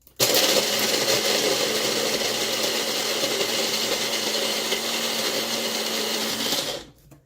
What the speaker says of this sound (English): So what, excuse the noise, because I'm going to blend these.